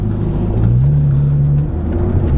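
A Porsche GT3 engine drones steadily from inside the car on a daily drive to work, loud and close, its pitch climbing briefly as the revs rise, then settling back.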